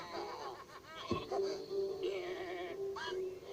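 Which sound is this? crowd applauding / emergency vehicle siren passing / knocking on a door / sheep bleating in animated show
sheep bleating in animated show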